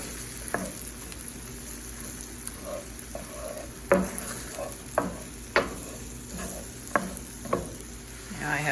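Chopped onions sautéing in a skillet with a steady low sizzle, broken by periodic sharp scrapes and clacks of a utensil stirring them, close and loud; no talking.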